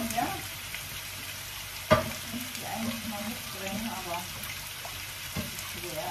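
Food fries in a home kitchen pan with a steady, crackling sizzle throughout, close and even, broken by one sharp utensil clack partway through and a few lighter knocks.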